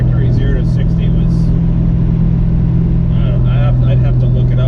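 A Ford Mustang (New Edge generation) pulls hard under acceleration, its engine a steady mid-pitched drone heard from inside the car, with someone talking over it throughout.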